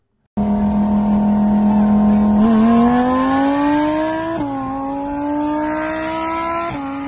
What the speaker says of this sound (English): That Audi R8 though, man, that thing sounds fucking amazing.